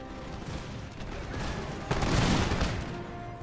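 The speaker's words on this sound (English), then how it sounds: "Here we have fire coming from all sides now." Musket volley fire rattles across the battlefield in the video game Napoleon Total War, a dense distant crackle of many shots that swells into a louder burst midway before easing off.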